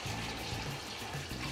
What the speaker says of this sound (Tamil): இப்போ ஒரு ஜக் தண்ணி போட்டு நல்லா கலக்கி